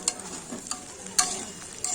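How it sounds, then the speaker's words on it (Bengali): Beef and potatoes fry in an uncovered pot and are stirred now and then. Soft sizzling runs throughout, broken by a few sharp scraping strokes of the spoon, and nobody speaks. "মাঝে মাঝে কিন্তু ঢাকনা উল্টে এইভাবে নাড়াচাড়া করে রান্না করে নিতে হবে।"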